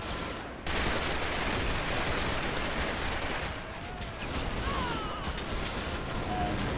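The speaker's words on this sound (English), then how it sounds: "that looks like Bren gunfire coming in" Bren light machine gun fire in the WWII war game Combat Mission, heard as sustained crackling bursts of gunfire that roll on continuously for several seconds at a steady, moderately loud level.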